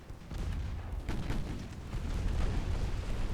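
Torpedo launch from the Butakov in a Denmark campaign of a naval warfare game, a dense low rumbling boom with continuous battle noise and no distinct separate strikes.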